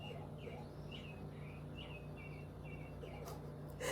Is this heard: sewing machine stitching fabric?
no